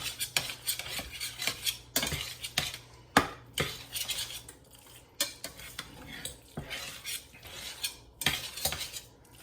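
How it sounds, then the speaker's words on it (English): A Mexi-chicken skillet being stirred, with a utensil scraping and knocking against the pan in irregular close strokes over a light background sizzle. "Do a little stirring here."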